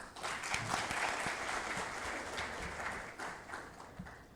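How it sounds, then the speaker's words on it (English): Audience applause at a pharma marketing conference session, a dense, sustained clapping from a crowd heard at a moderate distance, holding steady throughout. "a big round of applause"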